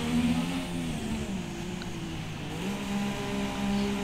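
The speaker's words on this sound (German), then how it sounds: "Oh, der Motor leidet hier richtig drunter." Formula 1 race car engine in the F1 2017 racing game, Belgian circuit qualifying, a strained high-pitched drone holding steady with slight pitch shifts throughout, continuous and close with no speech.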